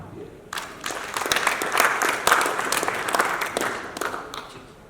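Applause from a summit audience after a team's tech presentation, with sharp individual claps first, then swelling into a full round of clapping in a large hall that thins out toward the end.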